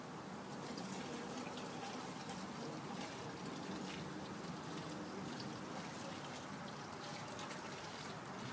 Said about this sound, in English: take your dirty water, which in this case is clean, pour it in